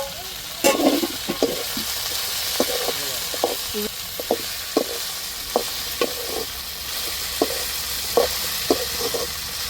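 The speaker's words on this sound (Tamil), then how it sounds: "வெண்டைக்காய் கத்திரிக்காய் தக்காளி மிளகாலாம் வதங்கிருச்சு" Okra, brinjal, tomato and chilli sautéing in a pan for a prawn curry, with a steady sizzle and repeated sharp scraping stirs of a spoon.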